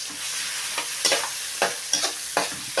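Garlic and ginger sizzle steadily in oil already used for frying fish, with a few stirring scrapes breaking through the hiss.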